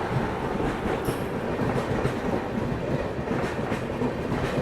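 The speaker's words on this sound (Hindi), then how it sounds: "नागपुर से कोई तो ट्रेन डिपार्चर ले रही है, देखते हैं किससे क्रॉसिंग हो रही है हमारी" The Jabalpur–Amravati Amravati Express rushes past as a crossing train, heard from on board a moving train as a dense, continuous rumble with rhythmic wheel clatter and wind roar throughout, loud and close.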